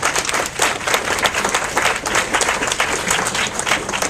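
An audience applauds at a lecture, steady dense clapping from a roomful of people that holds at an even level throughout, with no voices on top.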